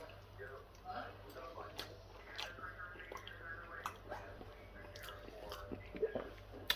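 Home-made chips with salt and vinegar are eaten close to the microphone, with soft crunching, biting and chewing sounds scattered over several seconds under quiet speech and faint background hum.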